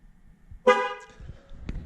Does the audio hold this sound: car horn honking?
yes